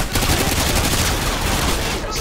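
Dense bursts of machine gun fire in the video game Call of Duty Modern Warfare 2, loud rapid continuous rattling close by, with no talk.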